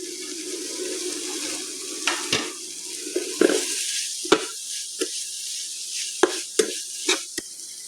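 Prawns dropped into a hot pan, a soft sizzle running underneath while sharp scraping and clattering strokes of stirring break in at irregular moments, close by, with no talking.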